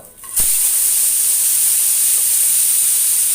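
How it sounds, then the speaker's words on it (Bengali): Two koi fish dropped into hot oil in a wok: a sudden loud, close sizzle bursts in after a brief quiet moment and then holds as a steady, bright hiss. "দেখুন, তেলটা যতটুকু গরম হওয়া দরকার ততটুকু হয়েছে, বিধায় কিন্তু শব্দটা এরকম আসছে।"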